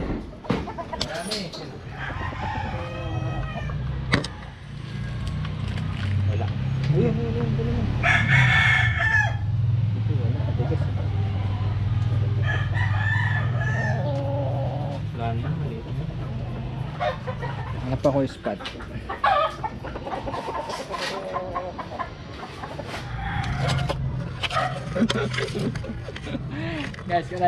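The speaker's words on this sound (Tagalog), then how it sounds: "Ayan yung manok po." Chickens cluck and a rooster crows repeatedly inside a noisy chicken coop, with people talking and laughing throughout and a low engine-like hum underneath.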